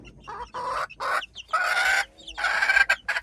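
A mother hen clucks close by in a string of loud, throaty calls with short pauses between them.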